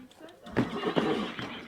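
Horses neigh and whinny at a site where many horses are being seized over animal-welfare violations, two or three loud calls rising over background voices and outdoor noise.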